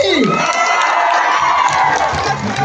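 A crowd at a political rally cheers and claps loudly, with shouts and whoops rising over dense applause, close and energetic, and a voice calling out briefly amid the noise.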